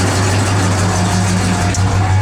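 A 1968 Plymouth Road Runner engine idles with a steady, deep rumble, low and even throughout with no voices.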